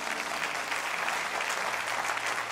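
A church congregation claps steadily for Jesus, dense and sustained applause filling the hall for a few seconds with no voices on top.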